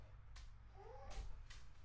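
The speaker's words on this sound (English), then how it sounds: "in case you're wondering what that wheezing was, it's one of my dogs, Ja" A dog wheezes indoors, two or three faint rasping breaths with a short wavering squeal in the middle, quiet over a low steady hum with no talking.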